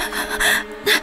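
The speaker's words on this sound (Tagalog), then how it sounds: "Tumatakbo na nga Hinihingal na nga ako" Panting after running, heard as quick, close, breathy gasps in a short burst of two or three loud inhales and exhales.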